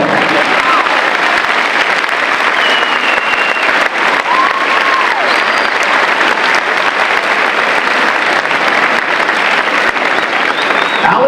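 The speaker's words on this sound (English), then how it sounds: "You may applaud." A school pep assembly audience applauds loudly and continuously for a Ring of Honor teacher inductee, dense close clapping throughout with faint cheers and voices mixed in.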